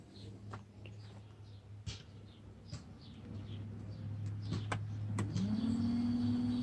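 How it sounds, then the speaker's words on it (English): Electric trolling motor on a Pelican Bass Raider 10E small fishing boat: a steady low hum with a few clicks and knocks, then the pitch rises sharply as the motor spins up and holds a louder whine. "put another quick connect there into the trolling motor. And let's see if it runs"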